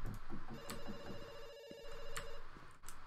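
A telephone rings inside the video game Dr Langeskov, a steady electronic trill running through the middle of the clip over background game sounds, with brief clicks around it.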